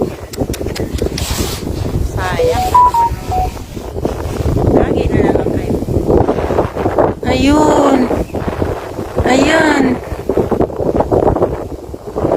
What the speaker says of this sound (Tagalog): Eh, mahangin eh.